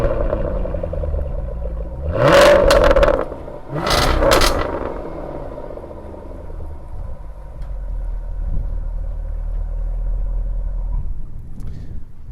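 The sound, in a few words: Jaguar F-type P450 V8 engine starting and revving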